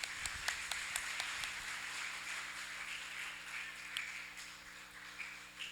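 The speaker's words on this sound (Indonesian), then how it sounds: "Tepuk tangan untuk kita semua." An audience at a youth talk show claps steadily in a room, a moderate patter of many hands that stays fairly even and somewhat distant over several seconds.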